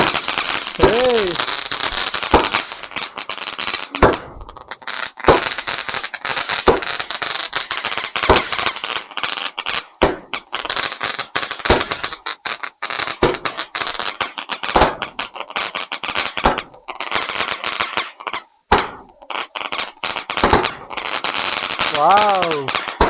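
A rapid string of sharp bangs from a 25-shot Sivakasi firecracker crackles on for over twenty seconds, loud and nearly continuous, with a few brief gaps and excited voices cutting in.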